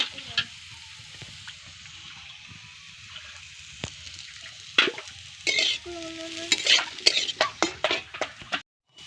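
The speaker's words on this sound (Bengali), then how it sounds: "এবার আলুটা ভালোই ভাজা হয়ে গেছে" Potatoes fry in a pan for a Bengali cabbage kosha, giving a steady close sizzle. Stirring scrapes and sharper clatters get busier and louder toward the end.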